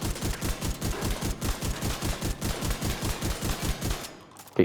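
Rapid automatic gunfire in the Division 2 shooter game, a steady unbroken burst of sharp repeated shots for about four seconds that stops abruptly, loud and close, with no talking.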